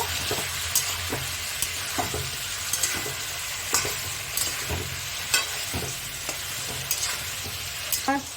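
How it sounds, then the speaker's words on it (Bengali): Steady sizzling of chicken frying in a pan, with regular scraping clicks from stirring roughly every half second, close up and with no talking. "5 মিনিট মতন ভেজে নেব"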